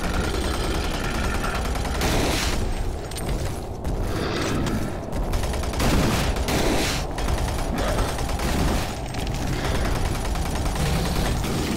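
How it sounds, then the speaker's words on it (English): DOOM 3 BFG Edition combat with a rocket launcher, loud repeated blasts and crackling bursts layered over mechanical clatter, the explosions recurring every second or two throughout. "Its rocket sound is pretty lame."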